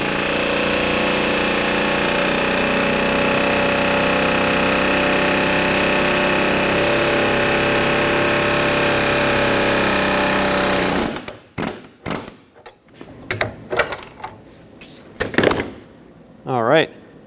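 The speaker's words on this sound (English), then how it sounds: "I'm just going to use an air chisel with a chisel bit" An air chisel with a chisel bit hammers at a lower control arm bushing sleeve on a 2003-2012 Chevrolet Colorado, a loud continuous rapid rattle for about eleven seconds, then stops, followed by metallic clanks and brief shop noises.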